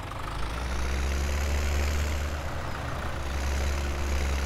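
A tractor engine in Farming Simulator 2017 idles with a steady, loud low rumble that holds constant throughout, with no talk over it.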